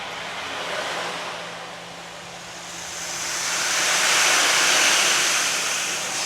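A small waterfall sound instrument played during a sound bath produces a soft, continuous rushing hiss that swells louder toward the end, like flowing water, with no talking.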